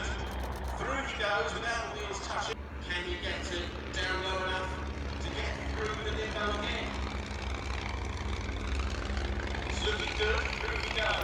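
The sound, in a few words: planes flying low under bunting at Shuttleworth airshow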